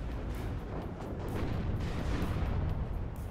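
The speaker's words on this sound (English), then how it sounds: "is now taking shots from the tank cannons" Tank cannons in the WARNO war strategy game fire amid battle noise, dull booms and rumbling blasts layered over a dense, continuous low roar of combat, moderately loud and without a break.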